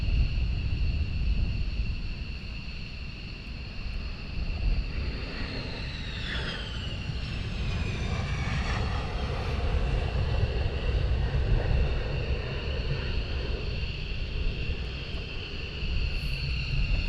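Military jets return to RAF Lakenheath with a distant, steady engine rumble, a high whine sweeping down in pitch near the middle as one passes, and a constant tonal hum above.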